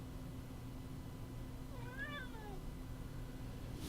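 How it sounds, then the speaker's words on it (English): A cat meows once, a single clear, drawn-out call rising and falling near the middle, faint and close, over a steady background hum with no talk. "And my cat is here to say hi."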